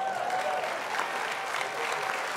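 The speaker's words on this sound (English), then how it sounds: "Now you can applaud." Church conference audience breaking into applause, continuous dense clapping with some crowd noise, steady and fairly loud throughout.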